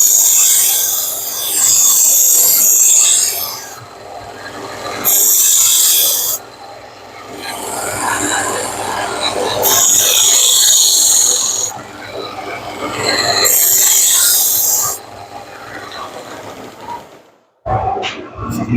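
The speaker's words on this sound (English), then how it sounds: "this bolster and tang, I'll just hit with the Dremel real quick afterwards." Dremel rotary tool cleaning corrosion from a rusty knife's bolster and tang, heard as several loud bursts of high buzzing and scraping separated by short pauses, close up, with a few quieter gaps.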